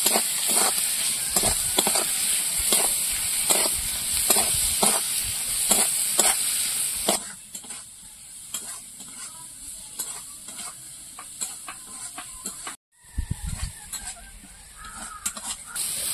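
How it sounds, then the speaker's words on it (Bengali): Fish curry made with kan fish and potatoes is stir-fried in a pan. Loud sizzling comes with quick, regular spatula scrapes, then the sound drops to a quieter simmering sizzle with scattered stirring knocks after a brief cut. "দিয়ে এবার একসঙ্গে সব ভালো করে কষিয়ে নেব"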